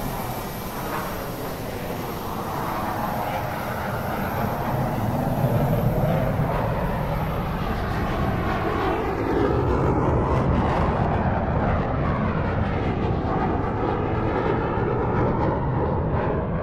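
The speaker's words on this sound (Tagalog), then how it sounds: "Alis na ang aeroplano." An airplane passes overhead, a loud, sustained engine roar lasting many seconds, with the sweeping tonal shift of a passing aircraft, alone with no talk.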